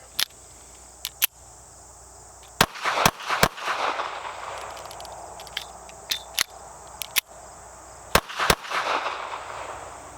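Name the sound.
Taurus Spectrum pistol firing rounds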